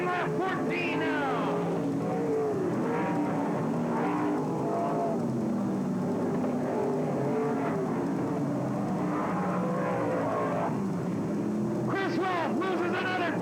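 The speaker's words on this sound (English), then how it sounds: "We're halfway through this one, and Steve Beitler has the lead, starting lap 14 now" Engines of 360 sprint cars roar continuously as they race around Willamette Speedway in 1988, a steady loud drone with rising and falling pitch as cars pass, overlaid by a race announcer talking throughout.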